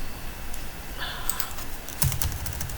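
Typing on a computer keyboard: a scattering of light keystroke clicks, close and fairly soft, with one sharper pair of taps near the end over a quiet room background.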